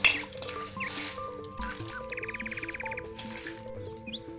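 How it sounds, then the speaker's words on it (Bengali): Cabbage being washed in water for an egg and cabbage fry, with splashing and dripping sounds and steady bird chirps in the background. "বাঁধাকপিটা আমি ভালো করে ধুয়ে নেব।"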